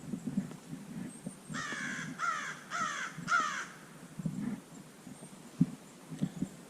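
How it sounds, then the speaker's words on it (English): Outdoors, a crow gives a clear series of four harsh caws in steady rhythm at moderate distance, with quieter rustling and faint background noise around them. "Crow"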